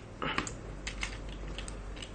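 Plastic parts of a 2015 Transformers Robots in Disguise Deluxe Class Sideswipe toy being folded and turned, giving a run of small close clicks and ratcheting snaps, a few sharper clicks near the start, with no talking.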